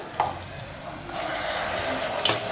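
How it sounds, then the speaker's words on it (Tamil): Shallots sauté in sesame oil in a pan for a country chicken gravy, giving a soft, steady sizzle that thickens after the first second, faint and close with no talking. "வெங்காயம் நல்லா வதங்கி வரட்டும்"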